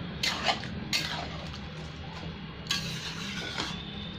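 A spoon stirs rice and lentils frying together in a pan for Bengali khichuri, giving a few distinct scraping strokes over a faint, low sizzle, close and fairly quiet.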